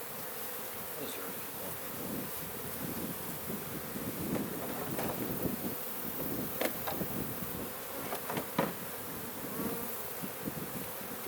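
Honey bees buzz in a dense, steady swarm outdoors during a honey harvest, with individual bees zipping close past the microphone over soft wind noise.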